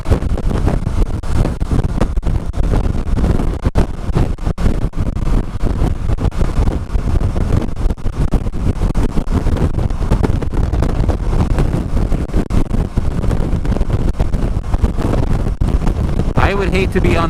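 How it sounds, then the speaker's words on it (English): Strong wind buffets the microphone during a motorcycle ride on a very windy day near choppy water, a constant loud rumble and roar throughout with a rider's voice faintly under it. "Super windy day."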